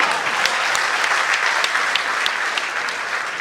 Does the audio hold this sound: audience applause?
yes